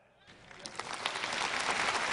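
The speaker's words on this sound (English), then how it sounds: "Y'all supposed to clap" Church audience bursting into applause during a sermon, clapping that rises quickly from quiet to a full, dense roar in a large hall and keeps building.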